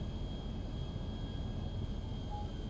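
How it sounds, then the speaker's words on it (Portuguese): Jet airplane taking off in the video game GTA V, a steady faint roar of engine noise with a thin whine on top, constant and even throughout with no talking. "Decolagem tranquila, tá tudo bem aí atrás."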